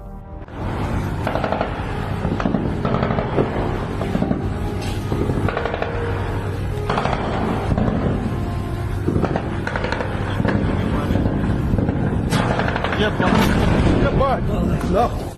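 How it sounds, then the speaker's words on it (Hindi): Rapid, dense bursts of machine gun fire crackle continuously and loudly at night against attacking drones at sea, with a voice speaking over them. "आप मशीन गन की ओर दौड़ते हैं, अंधेरे में गोली चलाते हैं"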